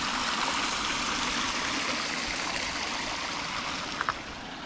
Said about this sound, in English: There's the bog, this stream, this waterfall.